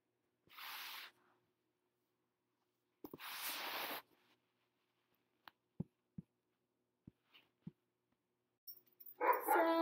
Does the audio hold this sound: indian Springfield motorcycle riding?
no